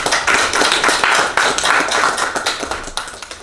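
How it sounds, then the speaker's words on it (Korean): A church congregation at a presbytery meeting's opening worship claps to welcome guests, a brisk, dense round of applause in a hall that steadily fades over a few seconds. "우리 한번 박수로"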